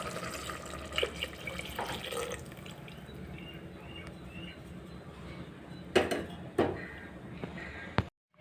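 First and second coconut milk poured into a simmering coconut milk kuzhambu, a soft continuous liquid splash and trickle with a few light utensil clinks, fairly quiet and close.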